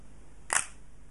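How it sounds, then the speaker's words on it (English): Single-lens reflex camera shutter release: one sharp, close mechanical clack as the mirror flips up and the shutter curtain opens and closes, alone in a quiet room. "let's take a look from this side what happens when we release the shutter"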